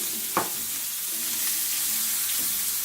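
Steak sizzles steadily in a well-seasoned cast iron skillet, a continuous close frying hiss with a soft clank of a utensil near the start.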